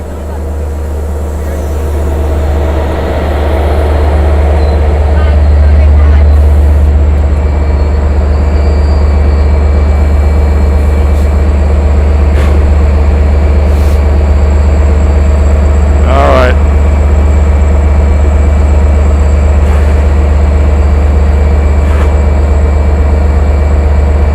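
A Long Island Rail Road train rumbles steadily and loudly past Speonk station for a long stretch, with a deep engine drone throughout and occasional clanks. Voices can be heard faintly in the background.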